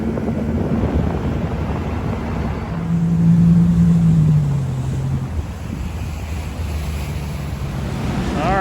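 A fishing boat's outboard motor runs steadily while riding up the Ohio River, a continuous low drone under heavy wind and water rush, with a brief tonal rise near the middle.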